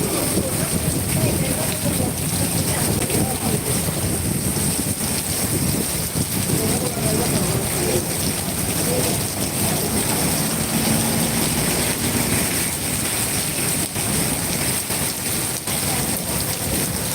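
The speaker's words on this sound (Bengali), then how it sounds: "এত এত পরিমাণ বৃষ্টিপাত হচ্ছে" Heavy rain pours down steadily over Sylhet city during a Kalbaishakhi storm in a dense, constant hiss, with a faint low rumble underneath throughout.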